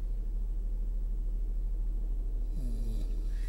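A man snores while asleep, a low rumbling steady breath with a snort-like rise near the end, close and alone over a constant low hum.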